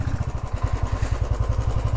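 Motorcycle engine idling while being parked at a hotel in Pelling, a close, loud, even low thumping pulse that holds steady throughout, with no talk.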